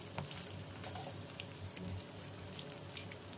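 Food deep-frying in oil, a soft continuous sizzle with scattered pattering crackles, fairly quiet and steady throughout, no talking.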